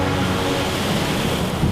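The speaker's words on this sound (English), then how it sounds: "You actually hear those waves crashing into the wall" Ocean waves crash into a coastal sea wall in Guyana with overtopping water, a loud continuous roar of surf and spray with wind noise throughout.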